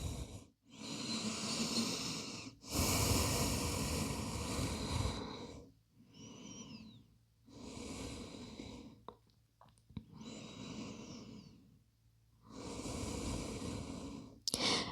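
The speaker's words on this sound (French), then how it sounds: "On va prendre 3 respirations." Slow, deep breaths taken in child's pose during a gentle back-care yoga flow: long airy inhales and exhales, very close and alone, separated by short quiet pauses.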